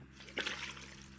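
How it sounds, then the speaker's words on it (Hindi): A glass of water is poured into a pot of chicken for a chicken curry with broth, making a brief, quiet splash and trickle that fades into soft background hiss. "और इसके अंदर हम डालेंगे 1 गिलास पानी"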